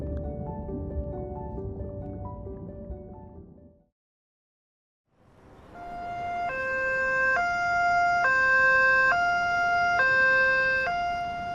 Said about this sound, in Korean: 사이렌 소리가 들렸다.